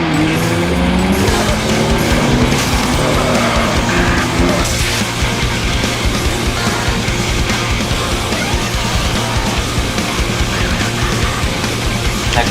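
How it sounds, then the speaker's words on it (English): A Nissan GT-R in a street race in the video game Street Racing Syndicate: a loud engine roars and shifts pitch as tires squeal and skid, then settles into a steady, continuous racing drone with game music underneath, no talk. "You're racing in the GTR today."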